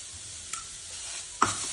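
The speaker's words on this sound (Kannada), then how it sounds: "ಲೋ ಫ್ಲೇಮಲ್ಲಿ ಇಟ್ಕೊಂಡು ಸ್ಲೋಗೆ ಹಸಿ ಸ್ಮೆಲ್ ಹೋಗೋ ತನಕ ಇದನ್ನ ಸ್ವಲ್ಪ ಫ್ರೈ ಮಾಡ್ಕೋಬೇಕು" Grated beetroot stirs and sizzles softly in ghee over a low flame, with two light spoon scrapes against the pan.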